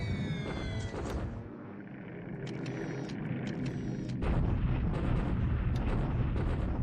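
Bombing explosions rumble in the War in the Pacific strategy game, a series of deep booms and crackling blasts that swell louder toward the end, with no voices.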